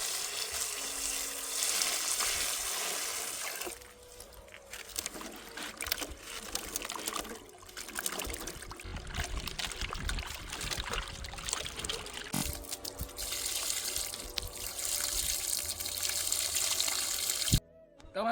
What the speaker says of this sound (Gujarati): તમે મિત્રો જોઈ શકો છો આપણે સારા પાણીથી આ બટાકાને ધોઈ લીધા છે.